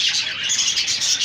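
Hagoromo and king budgies in breeding cages chirping, a dense overlapping chatter of high twittering calls, close and continuous.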